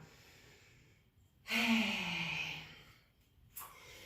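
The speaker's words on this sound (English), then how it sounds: "Taking a deep breath in between. Exhaling through the mouth." A deep yoga breath released through the mouth: one long, audible exhale rising from quiet, lasting about a second and a half, followed by a faint breath near the end, close and alone in a calm room.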